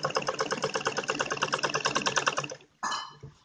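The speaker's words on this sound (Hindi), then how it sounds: "और यहाँ से सीधी सिलाई लगाएंगे ऐसे" Sewing machine stitching kurti fabric runs in a fast, steady rhythmic chatter for about two and a half seconds, then stops briefly before a short burst of stitching resumes.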